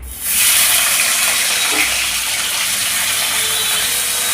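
Fresh fish just dropped into hot oil in a wok, a loud steady sizzle that bursts in at once and holds as a dense broadband hiss, with no talk over it.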